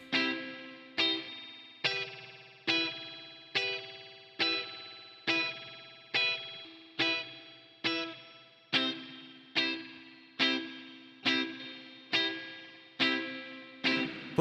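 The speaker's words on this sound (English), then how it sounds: "I love this kind of reverb on guitar." Electric guitar played through the HoRNet Springverb spring reverb plugin, repeating plucked chords about once a second, each with a sharp attack and a washy, ringing spring-reverb tail, with no voices.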